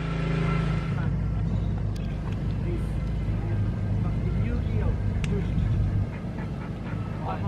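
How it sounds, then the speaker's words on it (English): A BMW E46 M3 with blown struts on a test drive, its engine and road noise a steady loud low drone throughout, easing slightly near the end. "time for a test drive"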